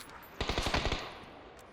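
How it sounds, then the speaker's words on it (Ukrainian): A short, rapid burst of automatic gunfire in PUBG on the Deston map, fired from a vehicle, about six shots in quick succession, set against a quiet background. "Правіше десь стріляють. З машини прям стріляє."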